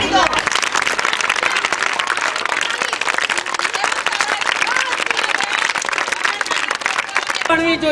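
An audience at a Kishori Mahotsav girls' festival gathering breaks into sustained, dense applause, loud and steady for several seconds before it stops abruptly.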